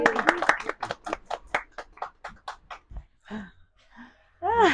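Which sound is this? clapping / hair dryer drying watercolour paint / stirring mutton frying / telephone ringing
clapping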